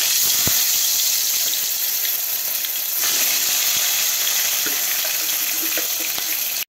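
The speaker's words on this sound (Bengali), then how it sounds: "এখন দিচ্ছি সরিষার তেল। আগে বেগুনটা ভেজে নিব।" Eggplant frying in mustard oil in a hot kadai gives a steady, dense hiss and sizzle that runs unbroken and fairly loud, with a few small pops and clicks throughout. No one speaks.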